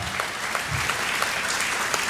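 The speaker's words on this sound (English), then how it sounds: "let's give everyone a round of applause at our" Gala audience clapping together, steady applause of many hands at moderate distance, filling the whole moment without any voices.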